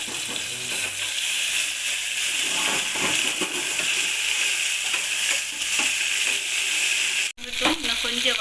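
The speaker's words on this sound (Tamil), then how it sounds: "இன்னும் கொஞ்சம் வதங்கணும்." Small tomatoes fry with fennel seeds and shallots in a pan, giving a continuous loud sizzle and hiss with scattered spoon scrapes and clinks, briefly cut off near the end, with no speech.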